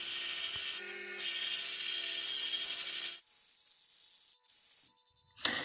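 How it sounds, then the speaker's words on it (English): A bench grinder's wire wheel scours deep rust pitting from linesman pliers, giving a loud continuous high-pitched scraping hiss that cuts out partway through, leaving quieter intermittent whirring and a sharp bump at the close; no voices. "It did take over an hour and a half on the bench grinder, the wire wheel, to get ready for the polishing stage"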